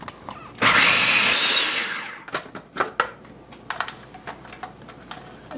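An electric mixer blending deviled pate ingredients with heavy cream and white pepper in a bowl, a loud whirring burst of about a second and a half followed by scattered clicks and knocks, no talk.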